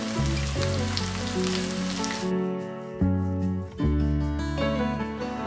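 Egg pepper fry with curry leaves sizzling in a pan, a bright hiss most prominent at the start and then partly masked by loud background music.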